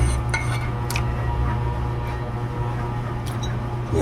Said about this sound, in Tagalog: Hanguin natin ito sa kanyang lagayan.